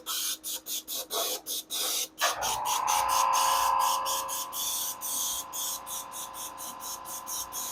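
An airbrush spraying paint onto an RC car body hisses in short bursts, then sprays in a longer continuous hiss with a whine under it, followed by more quick on-off spurts.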